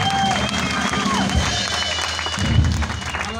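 An audience at a live rock concert in a Stockholm venue applauds and cheers in a broad, continuous wash of clapping, swelling again near the end, while a voice talks over it.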